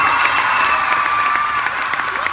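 A large audience at a Violetta Live show claps and cheers, with shrill youthful screams riding over steady applause; the roar is loud, dense and continuous for the whole stretch, with no speech on top.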